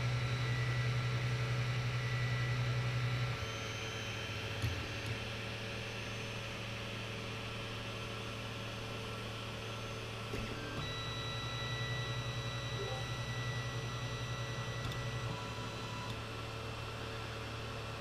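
A Creality CS10S 3D printer runs its auto-home routine: a steady mechanical hum with thin motor whines that shift pitch and brief clicks as the axes move. No one speaks.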